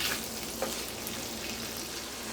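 Beef or goat tripe frying in a pan, a steady low sizzle with soft crackle running evenly throughout, fairly faint and close, with no voices over it.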